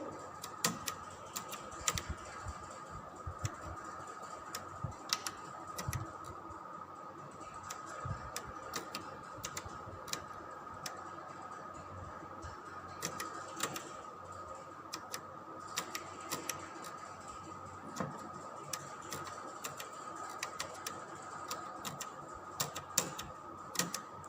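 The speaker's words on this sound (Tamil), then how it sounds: "ஸோ ஃபஸ்ட்டு ப்ரோக்ராமை டைப் பண்ணிக்கிறேன்." Keys clatter on a computer keyboard as a program is typed, irregular quick taps close by over a steady electrical hum, with no talking.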